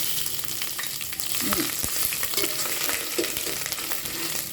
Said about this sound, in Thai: เดี๋ยวผัดพริกก่อน